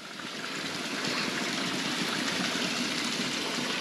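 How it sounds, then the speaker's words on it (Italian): Spring-fed stream of drinking water trickling and splashing steadily, a dense continuous close wash of running water with no voices. "e fa tutto questo ruscello qua"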